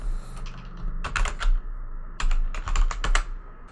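Fingers type on a computer keyboard in close, crisp bursts of rapid clicks separated by short pauses, with no voice over them.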